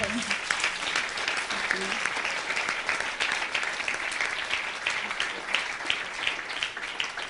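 An audience at a success-story seminar applauds a speaker, a steady dense wash of many hands clapping throughout, fairly loud and even, with faint voices mixed underneath.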